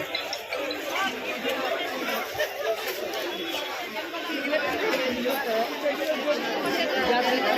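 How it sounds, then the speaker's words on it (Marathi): Dense crowd chatter at a busy Diwali market at Turbhe Naka in Navi Mumbai, many overlapping voices in a steady hubbub that grows a little louder toward the end. "दिवाळी उद्या आहे आणि आजच गर्दी एवढी गर्दी बघा मित्रांनो भरपूर गर्दी"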